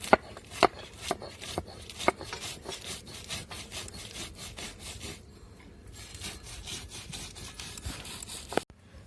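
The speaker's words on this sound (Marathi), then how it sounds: "एकदम मी मिरची वाट बारीक करून घेणार आहे" Chillies, garlic, salt and peanuts ground into a masala by hand, giving a steady rasping, scraping rhythm of repeated strokes close by, pausing briefly near the end.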